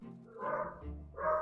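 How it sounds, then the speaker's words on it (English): A dog barks a few times indoors, short muffled woofs at moderate distance with a slight whine between them. "Sorry, that's my dog barking."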